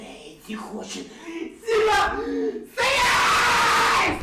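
A streamer screams loudly in a played clip from a stream, short vocal bursts building into a long harsh, sustained scream at full volume near the end.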